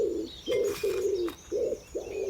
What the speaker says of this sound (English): From beyond the hedge, the wood pigeon continues its slow,